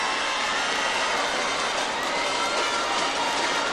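Sustained crowd noise at a rhythmic gymnastics world championships final, a broad steady roar of cheering and shouting from the arena audience encouraging the group routine throughout.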